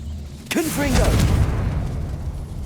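In Hogwarts Legacy, a character's voice rings out as the Confringo spell is cast, followed by a booming explosive burst that rumbles on and slowly tails off.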